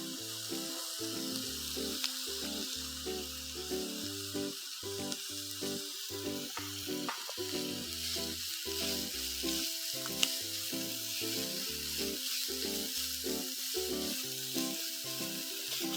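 Carrot sautés in a little oil, a steady soft sizzle running for the full stretch beneath background music.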